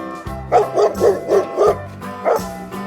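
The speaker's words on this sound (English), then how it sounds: "Fantastic dog, sweet dog." A dog barks in a quick run of about five sharp, close barks, a short pause, then one more bark, with no talking over it.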